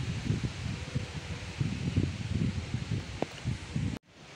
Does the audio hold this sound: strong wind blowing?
yes